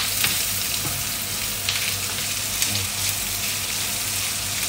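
Food frying in a pan, stirred: loud, dense, continuous sizzle close up, with a few faint scrapes of the utensil, no talking.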